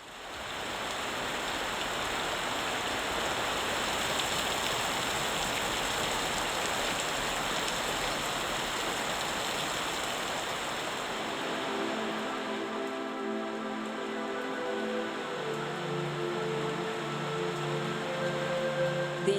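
Steady rain falls outdoors during a photo shoot, a constant wash of patter that continues throughout while a soft tonal hum enters toward the end.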